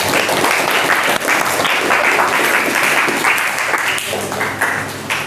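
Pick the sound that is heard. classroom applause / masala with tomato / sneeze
classroom applause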